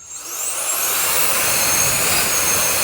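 Kica Jet Fan Max handheld blower spinning up to turbo speed, a loud, close, rising jet-like whine that settles into a sustained roaring rush of air.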